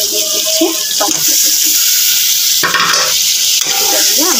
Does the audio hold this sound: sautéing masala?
yes